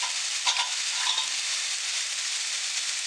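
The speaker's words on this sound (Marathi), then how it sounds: "कांदा आपण मंद आचेवर 5 मिनिटं शिजवलेला आहे." Chopped onion sizzles steadily in a pan over a low flame for Maharashtrian Aagri-style mutton kheema, an even bright hiss with a couple of faint stirring scrapes early on and no talking.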